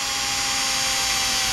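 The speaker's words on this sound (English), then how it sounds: "And tap it on a drill." A cordless power drill taps a thread into an LS engine block being built for boost, giving a steady close whirring grind with no pauses.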